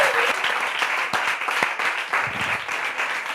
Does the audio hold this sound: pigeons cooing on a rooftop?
no